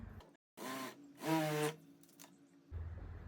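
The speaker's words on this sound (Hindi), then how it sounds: "दोनों को एक दूसरे के ऊपर रख के उल्टी तरफ सिलाई लगानी है" Sewing machine stitching salwar pieces on the reverse side, with two short motor runs humming with a rising whine, separated by quiet pauses, close by.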